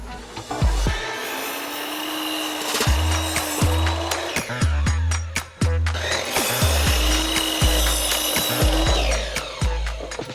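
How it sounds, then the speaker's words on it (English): Wood is cut for a DIY RAV4 bed build, a loud power-tool whine running in long passes with repeated sharp knocks and clatters of the boards between them. "All right, one more cutting session."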